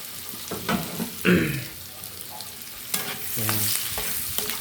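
Food stirred in bubbling hot oil in a pan at breakfast, an uneven sizzle broken by scraping strokes and clatters of the utensil, close and moderately loud with no talk.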